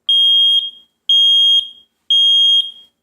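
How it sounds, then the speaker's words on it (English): Kidde 10-year battery smoke alarm sounding during a button test: three loud, piercing beeps, each about half a second, evenly spaced one second apart, with nothing else heard. "And once you hold it down for 5 seconds, the alarm should sound"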